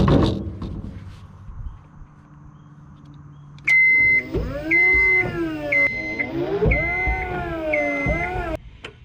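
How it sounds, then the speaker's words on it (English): Drive motor of a newly delivered, chained-down scissor lift whines as the tires turn, its pitch rising and falling with each run, accompanied by intermittent warning beeps and a brief voice at the start. "we can't drive it because we got her chained down still, but we can turn the tires"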